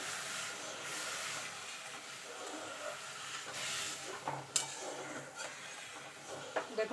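Water splashed into hot caramel for a fruit plum cake hisses and sputters, a broad steamy sizzle with small crackling pops that rise and fade across several seconds.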